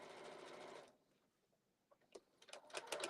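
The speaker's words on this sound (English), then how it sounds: "I'm just going to sew kind of a 1/4 inch here." Sewing machine stitching a quarter-inch seam on a quilt piece, first a loud continuous run, then a pause, then short rapid bursts of stitching close by.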